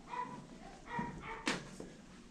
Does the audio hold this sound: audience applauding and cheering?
no